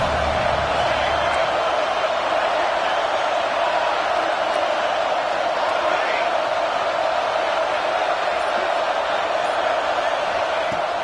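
A football stadium crowd roars on a fourth-down defensive stand, a dense, continuous wash of cheering and noise holding at a loud, even level throughout.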